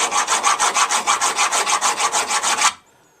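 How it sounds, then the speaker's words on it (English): A hand file rasps flats onto a steel motorcycle bolt in a garage, about fifteen quick, even back-and-forth strokes in a steady rhythm, close and fairly loud, then stopping abruptly. "got the bolt prepared, filed a flat on either side"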